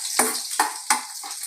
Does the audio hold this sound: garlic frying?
yes